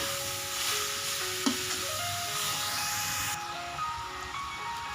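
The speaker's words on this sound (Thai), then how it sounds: "ผัดสักพักนะคะ" Minced pork with a little fat is stir-fried in a pan for a basil stir-fry, sizzling continuously at close range with occasional stirring scrapes.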